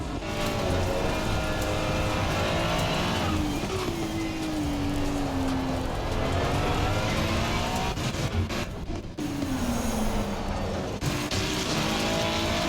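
Race cars in Assetto Corsa Competizione on the Nordschleife roar continuously, their engines rising and falling in pitch with gear changes. A crowded field drones together as a loud, unbroken wall of engine noise.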